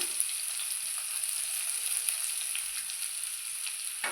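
Onions and garam masala fry in oil in a kadai, giving a steady, bright crackling sizzle close by, with faint stirring touches and a clunk near the end.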